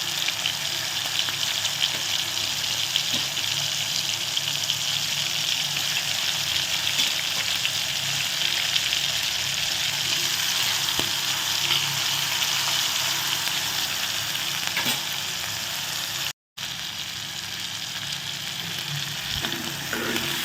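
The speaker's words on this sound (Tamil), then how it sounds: "எறா பொரியும் போது இந்த மாதிரி கிளறி விடுங்க." Marinated prawns frying in a pan, a steady loud sizzle and crackle running throughout with occasional scrapes of stirring, no voices.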